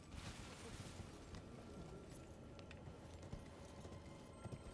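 Torrent the horse galloping in Elden Ring, a quick, even clip-clop of hooves running under a dense, steady wash of game ambience, moderately close.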